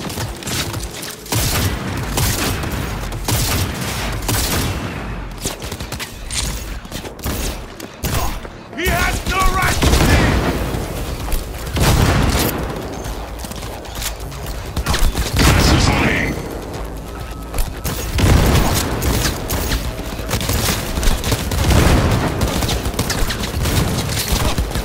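Automatic gunfire bursts and booming impacts from a firefight in the video game Cyberpunk 2077, loud and dense throughout with intermittent voices shouting over the shooting.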